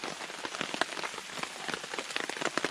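Rain patters steadily on surfaces at a wild camp in wet UK weather, with dense, close drops tapping irregularly and no talk.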